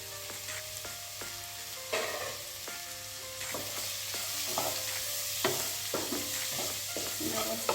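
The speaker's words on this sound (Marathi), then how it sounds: "सगळं मिक्स करून घ्यायचं आहे" A bitter gourd vegetable mixture with coriander and grated coconut sizzles in a pan while it is stirred, with repeated scraping strokes and clinks over a steady close frying hiss.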